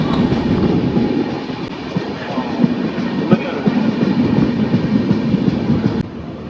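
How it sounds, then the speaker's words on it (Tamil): A passenger train running through Kerala gives off a loud, steady rumble with rhythmic wheel clatter, heard from on board for several seconds. "நம்ம ட்ரெயின் இப்போ கேரளாவுக்கு உள்ளதாங்க போயிட்டு இருக்கு."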